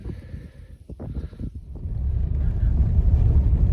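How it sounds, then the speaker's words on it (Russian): Gusty wind buffets the microphone, rising into a loud, steady low roar after some brief muffled sounds at the start. "Ветер усилился, холодный."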